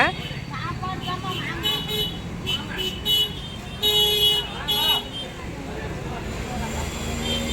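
Dense road traffic rumbles continuously on a heavily congested Tamil Nadu street while several short car horn toots sound in quick succession, with voices mixed into the busy street noise.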